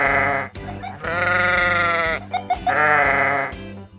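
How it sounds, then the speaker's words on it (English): A cartoon construction vehicle with a fault gives a sheep-like baa: two long wavering bleats with a short break between them, loud and clear with no talking. "You're sounding like a baaing sheep."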